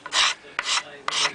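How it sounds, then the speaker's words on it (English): Three rasping strokes of a hand scraper across the wooden neck of an acoustic five-string bass guitar, each stroke a short bright scrape with brief pauses between, close and clear with no talking. "The scraper's a lovely tool to use."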